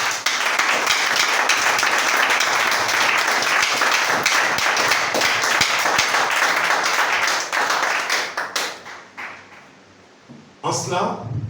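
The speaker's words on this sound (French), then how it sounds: "Acclamons le Seigneur." A church congregation bursts into sustained applause and cheering for the Lord, a dense, loud wash of clapping that fades out after about nine seconds, followed by a brief renewed burst.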